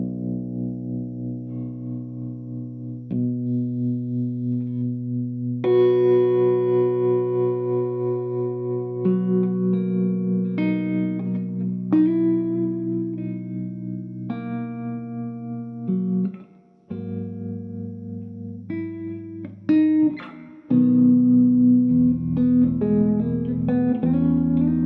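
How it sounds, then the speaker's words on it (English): An electric guitar played through a Two Rock Bloomfield Drive amp plays sustained chords and notes with a pulsing, wavering tremolo effect, some distortion and reverb, no voices. "So, what if I turn on the tremolo?"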